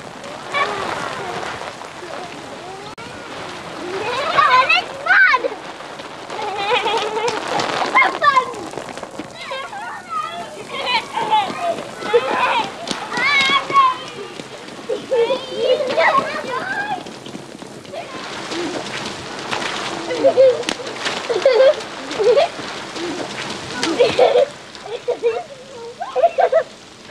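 Rain patters and splashes steadily while children shout and chatter playfully close by, their voices rising and falling throughout.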